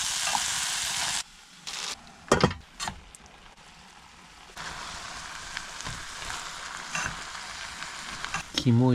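Squid-leg yakisoba with squid liver frying in a pan, a loud steady sizzle that breaks off, returns with clanks of stirring, then resumes as a continuous hiss with scraping near the end.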